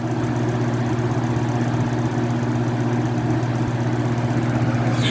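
A 1997 White Westinghouse (Holmes) WAB2000 fan runs with a loud, steady low hum and rattling vibration as it shakes hard, with no pauses.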